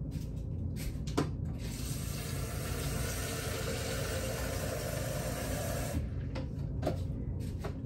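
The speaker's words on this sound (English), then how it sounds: "Go to the tap, get that water." A steady rush of water pouring from a tap for several seconds, with brief clatters and thumps before and after.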